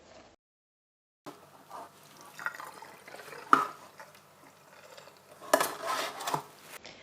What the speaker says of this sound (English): And now we're just going to remove any excess water.